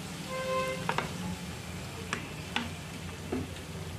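A gentle, faint sizzle rises from a pan as soy sauce and chili sauce fry, broken by a few light taps of a utensil against the pan.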